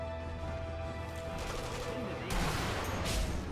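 Gunfire from the video game Sniper Elite V2, played in the co-op campaign: low booming shots and crashes ring out over a continuous game background, with a stronger burst toward the end.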